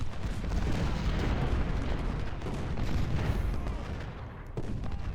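Artillery thunders in the Civil War strategy game Ultimate General: Civil War, a dense, continuous wash of booming and rumbling gunfire that holds steady and loud throughout, with only a brief dip near the end.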